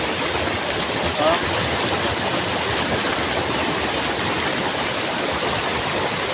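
Water from Bulao cold spring, a natural spring in San Isidro, Talakag, Bukidnon, flows steadily throughout as a dense, continuous rushing wash with no pauses, and a voice briefly calls out once early on.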